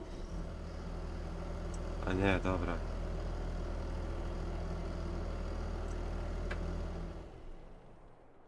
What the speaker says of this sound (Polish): trzeba odpalić silnik